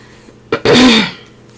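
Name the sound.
coughing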